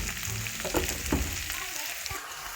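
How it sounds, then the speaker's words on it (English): Vegetables stirred into beef stew in a Ninja multi cooker make a continuous close frying sizzle with scraping stir strokes and soft knocks of the spoon. "So I've put all the veggies and I'm going to stir them"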